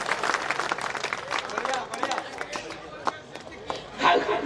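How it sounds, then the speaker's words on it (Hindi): An audience at a poetry recital claps in a brisk, uneven burst, moderately loud and close, with crowd chatter and murmuring voices running beneath it. "अरे ताली बजाओ।"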